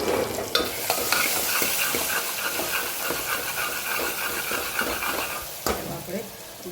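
Dry spices such as coriander-cumin powder, turmeric and salt are stirred through hot oil in a frying pan, giving steady scraping strokes over a continuous sizzle, with a louder clatter near the end.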